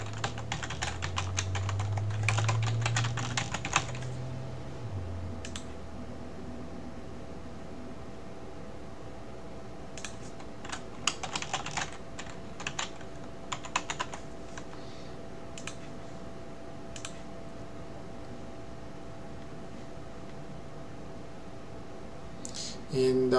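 Someone types an email address and password on a computer keyboard, with clustered bursts of soft key clicks separated by pauses over a low, steady room hum.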